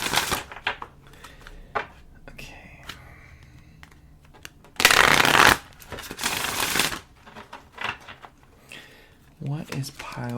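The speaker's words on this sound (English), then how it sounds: "Let's pull one more oracle card because I just want to see what the vibe is." Oracle cards are shuffled in bursts of soft riffling and tapping, with one louder sustained shuffle in the middle, heard close up between stretches of talking.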